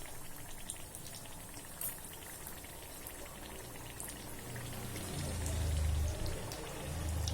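Karaikudi kara poori fry and puff in hot oil, a steady bubbling hiss with a low rumbling boil that swells toward the end, faint and close.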